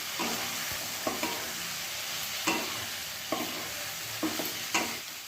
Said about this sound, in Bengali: এবার ভেজে রাখা সবজিগুলো এর মধ্যে দিয়ে দিচ্ছি, আর সবজির সাথে মশলাগুলোকে ভালো করে মিক্স করে নিচ্ছি।